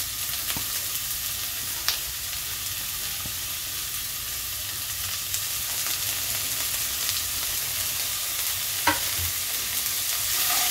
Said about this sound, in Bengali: এবার আমি দিয়ে দিলাম টমেটো কুচি।